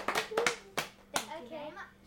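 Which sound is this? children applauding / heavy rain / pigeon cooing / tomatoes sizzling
children applauding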